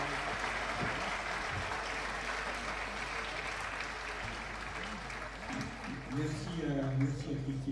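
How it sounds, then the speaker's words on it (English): Steady applause from a conference audience for a speaker, a dense continuous wash of clapping with a voice beginning to talk over it near the end. "Let's give him a round of applause."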